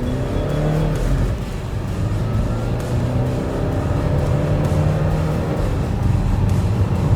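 A modified Chevrolet Cruze with about 235 bhp accelerating hard, its engine droning loudly and steadily with rising tone, heard from inside the car.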